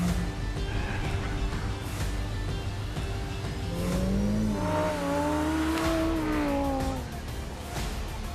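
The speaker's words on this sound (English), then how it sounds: "I am going to drive home in the M2" BMW M2 engine heard from the cabin while driving, a low steady drone that rises in a strong rev with climbing pitch before easing off, moderately loud.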